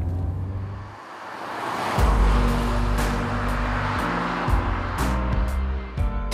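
A VW Golf GTI engine accelerating, with a low, rising drone that grows louder from about two seconds and holds steady, heard from inside the car with no talk.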